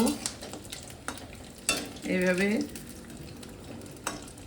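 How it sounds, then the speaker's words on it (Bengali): Prawn pakoras frying in oil and being stirred in a pan: a continuous sizzle broken by sharp scraping knocks of a spatula and a brief bubbling swell, with a single spoken word near the start. "পকোড়াগুলো আমার ভাজা হয়ে গেছে, আমি তুলে নেব।"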